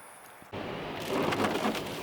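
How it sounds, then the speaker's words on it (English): Steady rain pours down on the way into Amsterdam, a quiet lead-in giving way at about half a second to a dense, continuous hiss of falling water that grows a little louder toward the end. "and of course it's raining"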